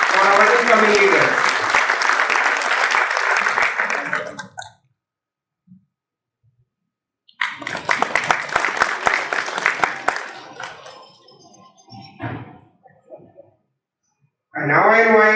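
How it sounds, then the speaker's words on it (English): An audience at an installation ceremony claps loudly for an incoming governor in two dense bursts separated by a quiet gap, with a third burst starting near the end. "Big round of applause for our incoming leader."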